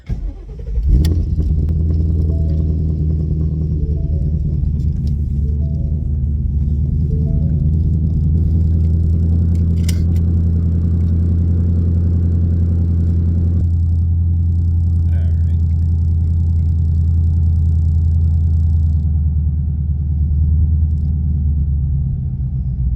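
A Ford Mustang GT (S550) with a manual shifter drives along with a steady, loud engine rumble that shifts pitch partway through as it changes gear, accompanied by continuous road and cabin noise.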